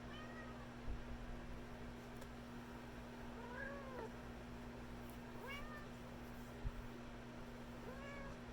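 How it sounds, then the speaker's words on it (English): A pet cat named Lily meows several times indoors, with short rising calls spaced a few seconds apart that sound a little distant over a steady low hum. "Sorry about my cat, Lily."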